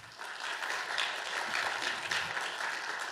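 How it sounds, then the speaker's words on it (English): An audience applauds professors at an economics event, a dense sustained round of clapping from many hands that starts quickly and holds steady throughout. "I want a round of applause for all the professors that are here"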